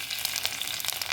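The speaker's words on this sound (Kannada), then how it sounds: "ಇದು ಕಾದಿರೋದಕ್ಕೆ ಹಸಿಮೆಣಸಿನ್ಕಾಯಿ, ಇದಕ್ಕೆ ಕರಿಬೇವು ಎಷ್ಟು ಹಾಕ್ಕೊತಿದ್ದೀನಿ." Green chillies and curry leaves drop into hot oil already holding mustard seeds, giving a steady close crackling sizzle with small spits and pops throughout a short burst, no voices.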